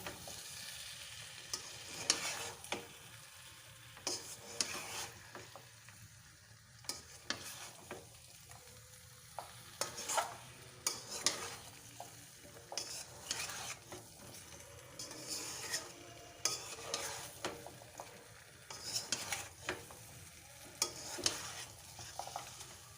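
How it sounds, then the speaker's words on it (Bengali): Potatoes for aloo dum being stirred with spices in a sizzling pan, repeated scraping strokes of a spatula in an irregular rhythm over a low fry, close and quiet, no speech. "মশলার সঙ্গে আলুগুলো ভালো করে মিশিয়ে নেব।"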